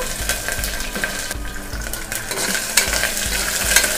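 Ginger pieces, cashews and curry leaves frying in hot oil for mint rice, with a steady sizzle and regular scraping stirs of a spoon against the pan, close and fairly loud throughout, no talking.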